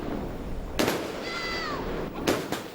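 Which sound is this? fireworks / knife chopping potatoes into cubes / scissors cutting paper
fireworks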